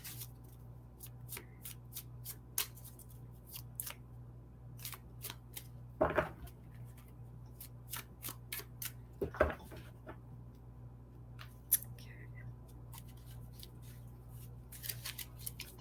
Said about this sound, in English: Stacy asked for a card pull.